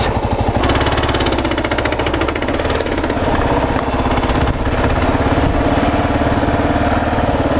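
A Kawasaki KLR 650 motorcycle grinds through deep soft sand, its single-cylinder engine thumping loud and close in a steady, rapid pulse that rises and strains slightly mid-run without pause.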